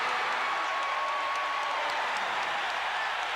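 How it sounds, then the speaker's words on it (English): A basketball arena crowd at a 1984 NBA playoff game, Lakers at Mavericks, roars in a steady, broad wash of cheering and applause, distant and sustained throughout without clear breaks. "the crowd is starting to get back in it"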